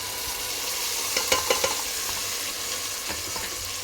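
Ginger, garlic and mutton paste frying in a pan, a constant sizzle with a few sharper crackles and stirring scrapes near the middle, close and steady without speech.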